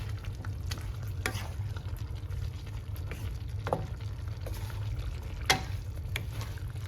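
Ratan jot heated in oil is poured over a cauliflower, carrot and turnip pickle, giving a steady sizzle with stirring scrapes and occasional sharp clinks, close and continuous, without talk.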